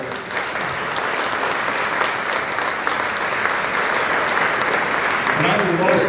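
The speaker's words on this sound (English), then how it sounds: "Let's give them a round of applause." A theater audience at a cabaret show applauds volunteer ticket staff. The clapping is steady and full and carries on for several seconds, with faint voices underneath near the end.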